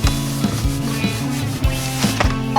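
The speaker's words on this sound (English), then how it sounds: "Go in between all these spokes. Clean the barrel of the wheel, pull out slowly." A brush scrubs back and forth inside the barrel of a car wheel between the spokes, producing close, rhythmic rubbing strokes with repeated scraping pulses over a steady background hum.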